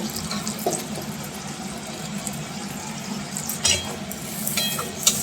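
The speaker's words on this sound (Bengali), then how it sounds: "এবার মিক্সির জার ধুয়ে যে জলটা হয়েছে সেটাকে ঢুয়ে দেবো" Water sloshes steadily as a mixer grinder jar is rinsed in a kitchen, with a continuous running-water wash and a couple of light clinks near the end.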